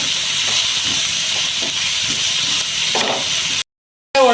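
Chopped onions and green chillies sauté in a pan for a bitter gourd stir fry, giving a steady, close frying sizzle and hiss that runs throughout before a brief silent gap.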